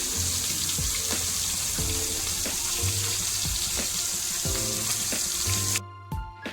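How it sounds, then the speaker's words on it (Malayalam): Fish fries in coconut oil in a home kitchen with a steady, dense sizzle throughout. Clattering and stirring knocks sound close by, and a sharper burst of noise comes near the end. "മീൻ ഇങ്ങനെ വെളിച്ചെണ്ണയിൽ ഫ്രൈ ആവുന്നതിൻ്റെ ഒരു നല്ല മണം വരുന്നുണ്ട്"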